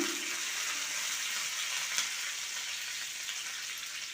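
A steady, bright sizzle of curry leaves and urad dal frying in hot oil for a Kerala-style raw banana stir-fry, fairly close and continuous, with one small pop midway.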